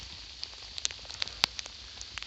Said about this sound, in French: Et alors ça grêle violent hein